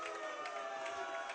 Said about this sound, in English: we're getting some heel action going from the crowd